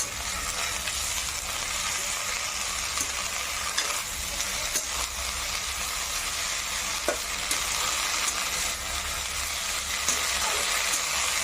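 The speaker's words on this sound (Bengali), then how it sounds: "তারপরে নেড়ে দিতে হবে সুন্দর করে" Bottle gourd leaves with salt and turmeric are stirred in a hot pan, producing a constant close sizzle and frying hiss with occasional faint scrapes, with no voices.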